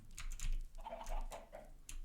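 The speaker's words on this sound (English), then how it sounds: "too many chicken" Chickens in the Minecraft video game, several short clucks and bird calls in quick succession, fairly close and moderately loud with no talking over them.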